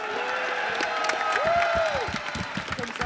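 Audience applause at a France Five conference at Japan Expo 2019, a short burst of clapping with some cheering, while a voice speaks over it.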